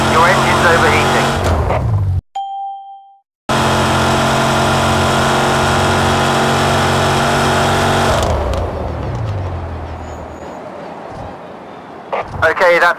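Overheating car engine in a racing game, running steadily at high revs with a loud sustained drone, cutting out briefly and then rougher and fading toward the end, with game sounds layered over it.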